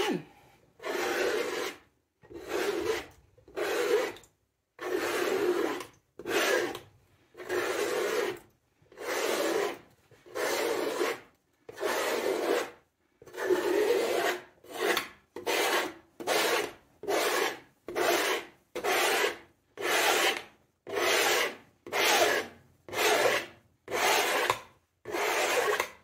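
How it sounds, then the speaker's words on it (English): Thick warm gray base paint scraped off a canvas in a long series of evenly spaced, rasping strokes, each a close, gritty scrape separated by short silences, quickening slightly toward the end. "So I'm going to scrape it, save as much paint as possible,"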